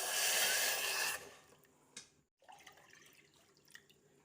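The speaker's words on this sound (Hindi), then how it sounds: "2 कप पानी हमने ऐड कर दिया है।" Two cups of water pour onto jaggery sugar in a kitchen, a loud splashing gush for about a second, then tapering into scattered drips and small clinks.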